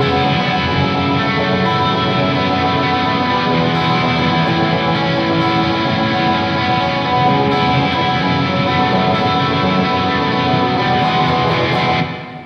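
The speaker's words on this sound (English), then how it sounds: "I kind of reverted to this part that I played where I kind of pedal picked and sort of arpeggiated the chords that I was going for" An electric guitar plays pedal-picked, arpeggiated chords through distortion, with a sustained, dense, even tone that runs steadily and loudly for the whole passage before cutting off at the end.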